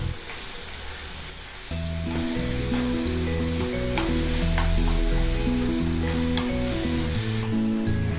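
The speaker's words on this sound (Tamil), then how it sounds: "இது எல்லாமே கொஞ்சம் நம்மளுக்கு வதங்கணும்" Ingredients for chicken salna sauté in a pan with a steady, loud frying sizzle and occasional stirring scrapes, heard close over a sustained background melody and no speech.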